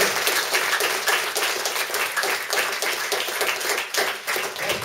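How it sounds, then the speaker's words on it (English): A crowd applauding, dense steady clapping that carries on for several seconds at a lively, moderately loud level. "give a nice round of applause for me and the boss for all the hard work"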